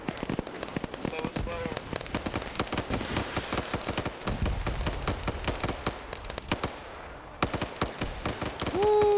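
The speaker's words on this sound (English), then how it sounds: "Keep popping over the trench wall and shooting at us." Steady gunfire from a trench warfare shooter game, sharp shots cracking irregularly and repeatedly throughout, near and loud, with players' voices talking over it.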